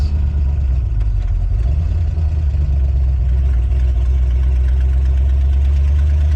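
A Ford Ranger with a 5.0 engine swap idles with a loud, deep exhaust rumble, a steady low drone held throughout with no voices.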